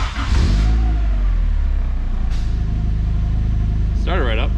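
A turbocharged Miata with a swapped Honda K-series engine cranks and catches, then idles loudly and steadily up close, its rough rumble continuing with a brief rising rev, while people talk over it.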